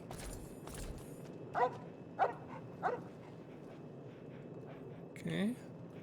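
Dogmeat, the companion dog in the video game Fallout 3, gives three short barks spaced about half a second apart, then a brief whimpering yip, with game background noise underneath.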